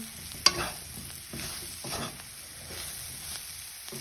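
Soaked soya meat fries in a pan for a soya meat curry while being stirred, a soft close sizzle with a sharp scrape near the start and a few spoon strokes over the low hiss.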